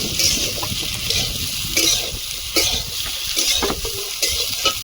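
Wet ridge gourd frying in a pan, a bright watery sizzle with intermittent stirring scrapes and spoon knocks against the pan, close and steady, no speech.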